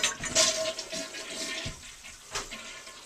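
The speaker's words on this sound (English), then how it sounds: "Flush the toilet," A home toilet in a mud room flushes after its cold water supply has been cut off, giving a close gurgling rush that surges and fades, with a brief splash toward the end and no talking.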